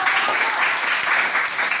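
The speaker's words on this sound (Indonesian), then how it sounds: "Oke, tepuk tangan untuk." Classroom applause for a student group after their presentation, a steady wash of clapping from a room of students, even and unbroken, moderately loud with no voices over it.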